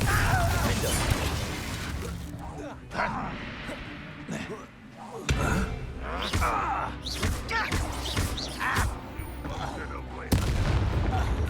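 Confringo fire spells exploding in combat in the video game Hogwarts Legacy, dense booming blasts and rumbling impacts in rapid succession, loud and continuous, with voices speaking over the fight.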